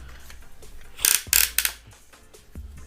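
Ratchet joints on the legs of a Transformers Legacy United Titan-class Tidal Wave toy click in a few short, close bursts around the middle, with quiet handling rubs between them and no talking.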